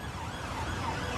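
An ambulance siren sounds as a steady wailing tone over continuous road and engine noise, fairly loud and close throughout, with no voices.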